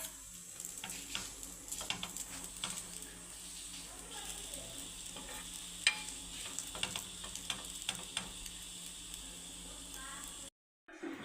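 An egg paratha fries in oil on a pan, giving a steady, close sizzle with light crackles and scraping from being turned, running the whole stretch alone before a brief drop out near the end.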